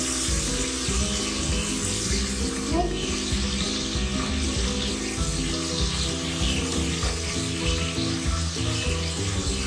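Mashed onion and garlic fry in a pan for mutton paya, making a continuous, even sizzle with a dense hum underneath, steady and close for the whole stretch.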